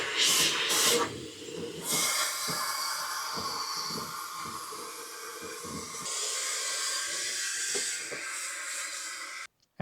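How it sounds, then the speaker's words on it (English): A 300000 RPM electric rechargeable air duster blows a steady, close, loud hiss of air that shifts in strength for about nine seconds, then cuts off abruptly. "you got a turbo cleaner to blow out the dust"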